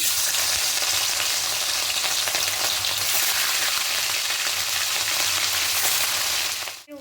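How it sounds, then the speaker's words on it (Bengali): Loud, steady sizzling of rohu fish frying in hot mustard oil, a dense crackling hiss that continues without pause before cutting off abruptly. "তেলটা খুব ভালো করে গরম হয়ে গেছে এবার একে একে মাছগুলো দিয়ে দেবো"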